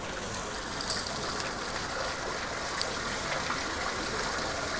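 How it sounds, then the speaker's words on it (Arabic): Water from the Ain Dourouj spring in Setif, Algeria, runs in a steady, even rush, continuous and moderately faint, with no voices. "عين دائما فيها ماء يجري دائما فيها ماء"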